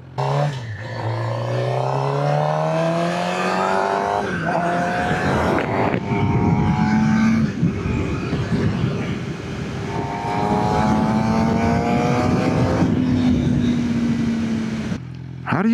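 A Suzuki GSX-R600 sportbike engine revs while riding, its pitch climbing through gears and dropping on downshifts with blips, loud over wind noise, with a voice speaking briefly.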